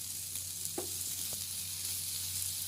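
Kashmiri chilli powder and other ground spices sautéing in a pan give a steady, close sizzle of frying, with a couple of faint scrapes as they are stirred.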